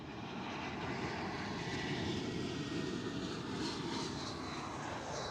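An Airbus A380 landing at Amsterdam Schiphol airport: a loud, steady, broadband jet roar that holds at full strength for the whole stretch, with no talk over it.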